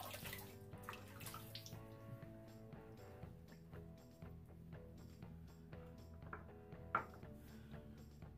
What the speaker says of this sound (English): let's throw a little bit of water on our head here.